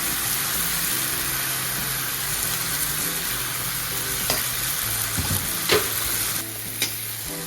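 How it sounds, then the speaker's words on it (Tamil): Salt, chilli powder and coriander powder sauté with tomatoes in a pan for a dal dumpling kuzhambu, giving a continuous close sizzle broken by several scraping stirs and spoon clinks toward the end, with no talking. "மல்லித்தூள் கொஞ்சம் போட்டு லேசாக ஒரு வதக்க வதக்கிட்டு"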